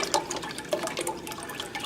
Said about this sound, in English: 32-ounce container of beef broth. So I'm gonna go ahead, add that in.